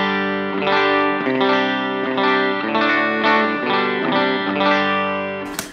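An electric guitar on its bridge humbucker played through a Geneva V2 AC30-style amp, strummed chords ringing with a driven, chorused tone, loud and close with no talking, cut off abruptly at the end.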